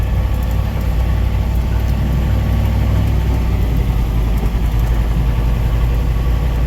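Loud, close, steady rumble of a 1959 Ford F-100 4x4 pickup's Y-block V8 running without a break, with no talk over it.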